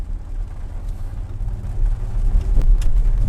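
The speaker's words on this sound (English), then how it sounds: "There's going to be a steeper bump ahead and I'm going to drive over it." A Jaguar I-Pace electric car rolls over a steep bump, heard from inside the cabin as a low, continuous road rumble that swells toward the end.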